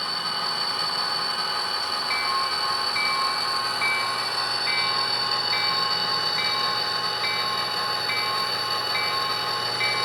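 Model train locomotive with freshly cleaned wheels running steadily along layout track, a continuous even rumble with a faint repeating click from rail joints, close and alone with no talk.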